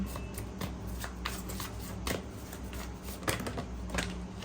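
Tarot cards being shuffled and drawn by hand, a steady papery riffle with sharper snaps of cards at intervals over a low background hum.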